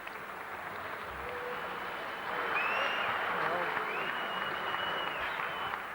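Sustained crowd applause and cheering for fighter Paul Hancock at a fight event, dense and even, swelling slightly louder midway through.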